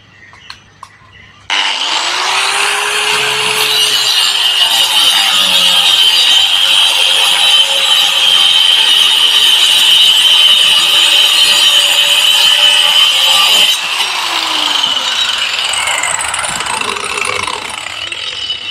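An APR AP91 power saw cutting through a wooden board: a loud, steady mechanical whine starts abruptly, holds for about twelve seconds, then winds down at the end.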